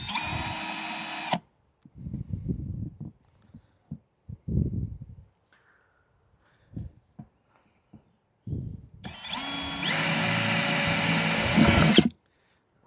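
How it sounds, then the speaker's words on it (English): A power drill bores a hole in a self-watering pot in two loud, close bursts, one short at the start and a longer one near the end. Quieter handling noises and breathing fill the gap between them. "Drilled the hole."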